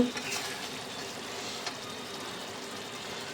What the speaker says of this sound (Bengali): এবারে জিরের গুঁড়ো, লঙ্কা গুঁড়ো দিয়ে মশলাটা ভালো করে কষিয়ে সবজিগুলো দিয়েছি